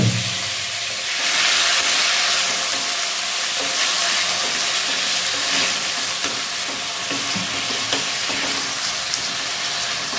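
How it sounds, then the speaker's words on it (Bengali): Chopped tomatoes hit hot oil in a pan for restaurant-style butter chicken, a loud burst of sizzling that settles into a dense, even frying hiss, up close and with no talking. "এই তেলের মধ্যে এখন দিয়ে দেবো এই কেটে রাখা টমেটোগুলো।"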